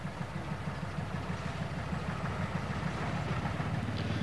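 A veteran locomotive from a Bedfordshire brickworks runs steadily, its engine throbbing in a low, even chug that stays close and constant throughout, with no voices.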